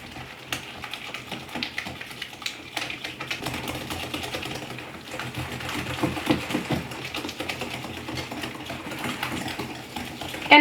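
Gluten-free shortbread cookie dough with one egg added is beaten steadily in a bowl, giving a continuous busy clatter and churning whir that runs at an even level for about ten seconds with no talk.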